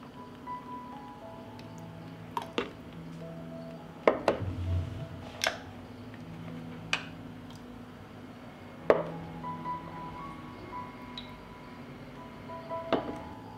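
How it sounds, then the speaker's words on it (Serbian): Glass jars are lifted out of a cooking pot after three hours of boiling, giving sparse, sharp clinks and knocks spaced several seconds apart against a quiet background. "I evo nakon 3 sata kuvanja izvadit ćemo tegle iz šerpe"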